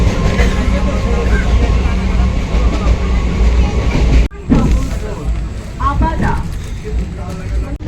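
Sealdah to Mayapur local train running, a loud continuous rumble from inside the compartment, with a brief dip partway through and then the clatter carrying on under faint voices.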